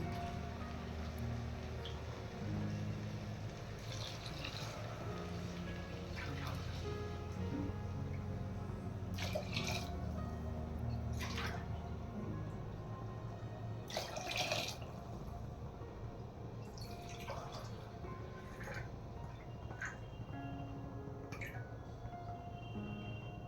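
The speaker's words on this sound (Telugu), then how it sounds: "మూడు గ్లాసుల 3/4 గ్లాసు వేసానండి వాటర్." Water pours steadily into a pot of rice for prawn biryani with a continuous splashing rush, punctuated by a few clinks and knocks, fairly close and with no talking.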